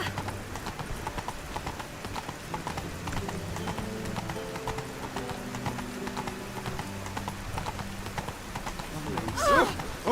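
Roach the horse trots along in The Witcher 3, hooves clip-clopping in a steady rhythm close by over game ambience, with a short sharp noise near the end.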